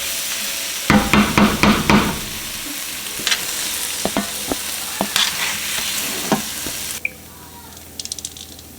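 Beef frying in a pan for beef and broccoli, a constant sizzle with bursts of scraping and clattering as the meat is stirred and pushed around, then the sizzle drops suddenly near the end.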